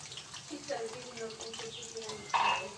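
Dried ribbonfish and vegetables cooking in a pan: a soft, steady sizzle and bubbling with occasional stirring scrapes, ending in a brighter hiss, with a voice speaking faintly.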